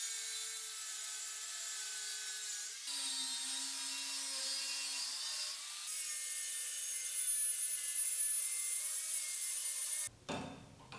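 A car blower motor rebuilt into a machine, spinning up toward 15,000 to 16,000 RPM, a steady high-pitched whine that steps up in pitch in stages, fairly quiet, then cuts off abruptly near the end.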